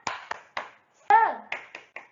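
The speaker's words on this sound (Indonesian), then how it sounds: "mari kita melakukan tepuk semangat ya" Schoolchildren in a fourth-grade class perform the rhythmic tepuk semangat spirit clap, sharp patterned claps in a short beat with a single chanted call in the middle.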